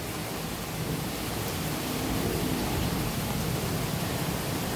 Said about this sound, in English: The rain has definitely picked up some, but not a whole lot.